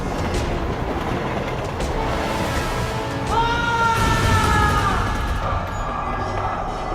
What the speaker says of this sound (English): the train travels at speed over the trestle bridge